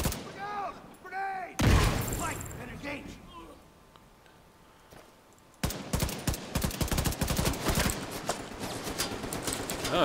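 Gunfire in The Division 2, with a loud blast followed later by rapid sustained automatic fire in close bursts; a person talks in the opening moments.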